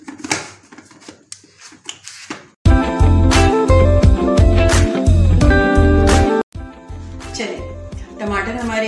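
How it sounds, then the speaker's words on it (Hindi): A loud mixer grinder whirs in steady bursts grinding tomatoes, starting and stopping, after some quieter handling and clatter at the start. "हम इसे डालेंगे अपनी मिक्सी में और इनको कर लेंगे ग्राइंड"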